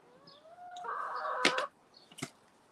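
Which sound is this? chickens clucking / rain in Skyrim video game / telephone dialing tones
chickens clucking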